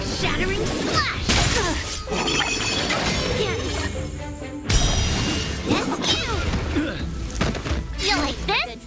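Honkai: Star Rail sword combat with a rock-shattering slash, loud crashing and shattering impacts with whooshes repeating through the fight, under energetic character voices and game music.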